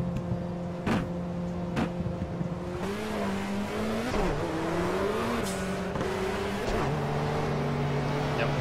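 A historic Ford Sierra touring race car in the Project Cars racing game holds a steady droning engine note that shifts pitch gradually as it drives, with a couple of sharp knocks early on and someone talking over it.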